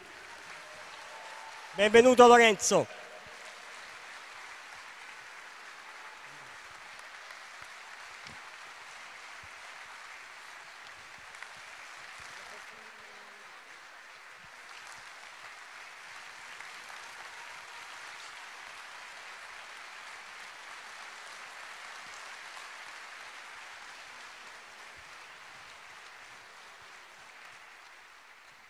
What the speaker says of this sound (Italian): E ancora un grande, fortissimo applauso per il rappresentante del Club Scherma Ariminum, Lorenzo Sanchini